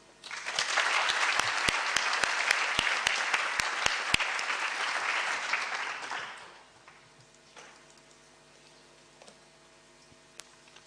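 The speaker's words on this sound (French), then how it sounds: "Je vous prie de l'applaudir" Applause from the audience at a university back-to-school ceremony. It fills about the first six seconds with dense, steady clapping and a few sharper isolated claps, then drops to a quiet room with faint scattered noises.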